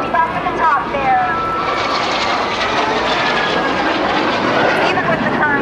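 An MS760 jet aircraft flies past at the 2010 NAS Oceana airshow, producing a loud, continuous engine roar that fills the whole stretch with no break.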